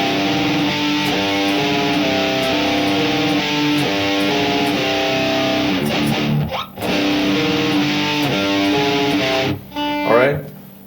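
A heavily distorted electric guitar chugs through a metal power-chord riff, loud and continuous with repeated palm-muted low chords, briefly dropping out twice before resuming with a sliding, fading tail.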